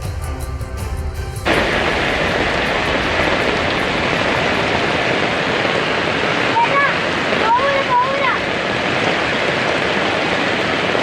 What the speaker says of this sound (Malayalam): വയനാട് മേപ്പാടി ചുരൽമലയിലും കനത്ത മഴയാണ് മുണ്ടക്കൈ പുഴയിൽ മലവെള്ളപ്പാച്ചിലുണ്ടായിരിക്കുന്നു